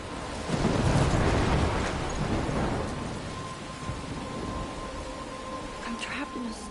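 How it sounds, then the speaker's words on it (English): A thunderstorm with a deep rolling rumble of thunder and steady rain, loudest near the start and then settling into a continuous wash of rainfall with a faint tonal hum in the background. "I'm trapped in a storm?"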